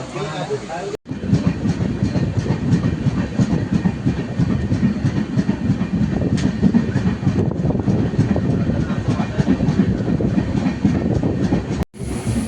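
A train rumbles steadily along the tracks with rhythmic clatter, close and continuous, with faint voices in the background.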